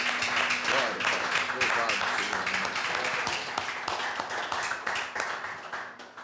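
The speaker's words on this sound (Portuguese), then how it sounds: "Aplaudir o Senhor mais uma vez" Church congregation clapping together during a Santa Ceia service in Barra Funda, loud and continuous, with voices and some singing or speech mixed in underneath.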